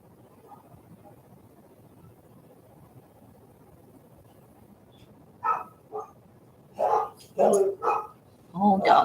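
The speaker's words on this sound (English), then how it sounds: "Doggies are being doggies." Several dogs bark in a burst of sharp, close barks after a quiet stretch, with a couple of isolated woofs first and then a rapid cluster of loud barks at the end.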